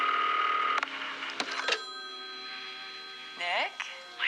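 A telephone rings with bright, bell-like tones in a few quick bursts during a day of prom-night preparations, followed by fainter trailing chimes, with a voice narrating over it.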